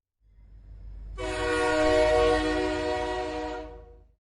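A train horn blares in one long, sustained chord over a low rumble, swelling and then fading out.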